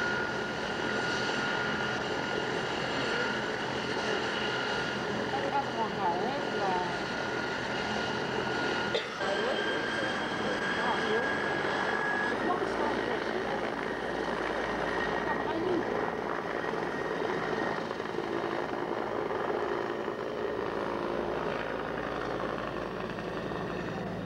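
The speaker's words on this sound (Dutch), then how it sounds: "En een man moest gered worden via de helikopter." Helicopter flying over the sea during a rescue of a man after an accident offshore near Miami, a steady continuous rotor and engine drone throughout with a slight shift midway, and a voice talking over it.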